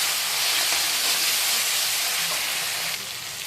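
Ginger garlic paste sizzling in hot oil in a pan, a loud, continuous broadband hiss that holds steady throughout and softens slightly near the end.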